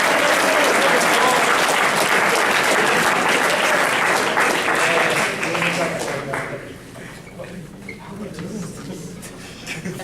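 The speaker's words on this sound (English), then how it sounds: "this you can clap if you would like" A high school baseball awards ceremony audience applauds loudly for a JV2 player, a dense, steady wash of clapping that fades and thins out over the last few seconds.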